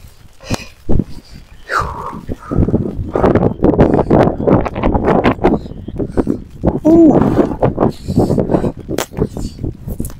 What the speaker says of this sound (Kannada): ಏನ್ ಗಾಳಿ ಬೀಸಿದೆ ಗೊತ್ತಾಗಿ.